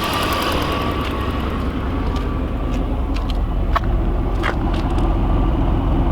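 A 1987 Pontiac Trans Am GTA's 350 V8 idles steadily and evenly throughout through its factory exhaust, with a smooth, muted rumble and faint background noises.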